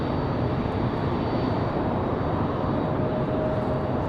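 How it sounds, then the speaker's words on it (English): American Airlines Boeing 737-800 departing Raleigh-Durham airport in windy conditions, a steady broadband jet roar that holds constant and fairly loud for the whole span, with no talk over it. "Got the 737-800 for American Airlines up next, ready for departure"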